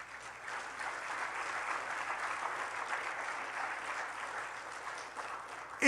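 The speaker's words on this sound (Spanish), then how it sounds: "¿Le podemos dar un aplauso al Señor?" Applause fills a church congregation during a sermon, a steady, moderately distant wash of many hands clapping that holds evenly for several seconds with no voices over it.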